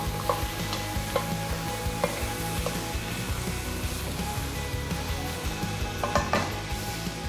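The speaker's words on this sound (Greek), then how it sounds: "θα ανακατέψουμε πολύ πολύ καλά μέχρι να εξαφανιστεί το αλεύρι μέσα από την κατσαρόλα" Flour is stirred into a sizzling pot while a Greek dish is cooked: a steady frying hiss runs throughout, with occasional light spoon scrapes and taps against the pot, and no voices.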